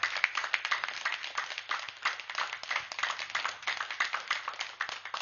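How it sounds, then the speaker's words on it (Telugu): An audience at a meditation gathering claps steadily and warmly, a dense, even patter of many hands sustained throughout at moderate volume. "గట్టిగా చప్పట్లు కొడదాం"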